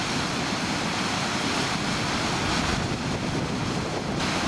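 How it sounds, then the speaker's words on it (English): Strong gusts buffet an outdoor microphone beside North Yorkshire floodwater in February 2022, producing a loud, continuous low rumble with no voices. "there might be a little bit of wind noise on this video"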